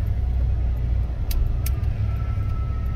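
A 1987 Chevrolet C10 pickup's engine runs steadily on a test drive, a continuous low rumble of motor and road noise heard from inside the cab with no talking.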